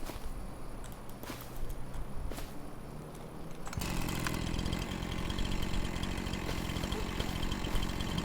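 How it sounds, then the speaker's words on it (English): A chainsaw cutting a tree in the video game Farming Simulator 25, first a rough idling buzz, then a sudden louder, steady revving whine as the saw bites in and keeps running. "get our chainsaw out"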